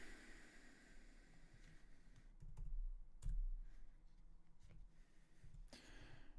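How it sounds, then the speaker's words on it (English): Quiet clatter of keys on a computer keyboard while typing a chat message, soft irregular taps alone in a hushed room. "I'm just typing in the chat to him real quick."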